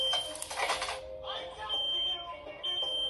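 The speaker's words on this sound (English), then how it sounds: "stop their smoke alarm when it goes off" A high electronic smoke alarm tone beeps repeatedly at close range, its steady pitch running under loud talking and shouting voices.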